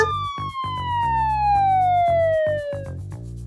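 A wailing ambulance siren sweeps downward in pitch, loud and close, over a pulsing low engine rumble.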